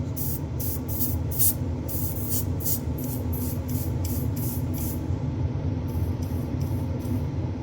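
Low-pressure airbrush hisses steadily as paint sprays onto paper, a soft continuous airy stream with a quick train of brief sharp bursts in the first five seconds and again near the end.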